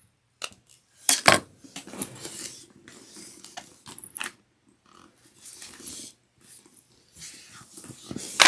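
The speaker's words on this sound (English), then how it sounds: "Then I'm going to trim this so this is nice and flush." Scissors trim the edge of cork fabric in a quiet workspace, giving a few close, short rasping snips and rubs separated by pauses.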